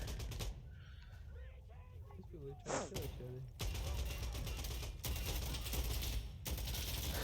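Gunfire in the video game Insurgency: repeated bursts of rifle and machine-gun fire in broken stretches, loud and close, with brief quieter gaps between volleys.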